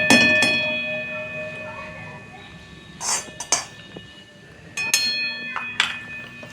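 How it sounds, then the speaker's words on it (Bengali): A metal spoon clinks against a kadai a few times while adding ghee, sharp light taps scattered over a quiet kitchen background. "এক চামচ ঘি দিচ্ছি"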